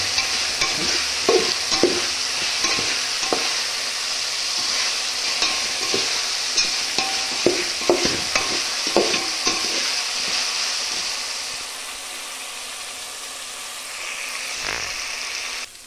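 Spice masala frying in plenty of oil for pulao, a continuous near sizzle with irregular stirring scrapes and taps, easing to a quieter, calmer fry toward the end with no talking.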